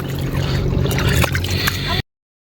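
Splashing, running water fills the clip steadily at close range, with a few sharper splashes scattered through it.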